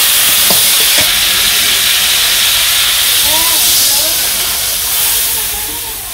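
Cooking liquid poured into a hot pan sends up a loud, steady steaming hiss and sizzle that fills the whole stretch, with faint scraping stirs and a hint of voices in the background.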